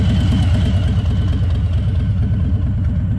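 A motorcycle engine running steadily near a pickup truck after being unloaded, a loud, close, rhythmic low-pitched chugging with a faint mechanical clatter on top; no speech.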